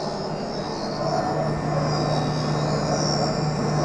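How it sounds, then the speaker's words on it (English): A lens edger's bevel wheel grinds a V-shaped bevel around the edge of a Crizal Sapphire lens for a Ray-Ban 2132 frame, producing a steady, even machine whir with a low hum that holds for the whole stretch, with no talk. "Now it's going to get the knife-like bevel around the edge, the V-shaped bevel"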